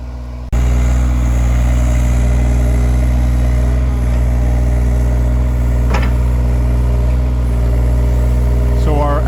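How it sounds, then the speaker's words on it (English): A skid steer engine running steadily while hauling dirt at a septic system job in the forest on a hill, a loud constant low drone with faint squeaks over it. "I took my skid steer and started hauling dirt from other piles"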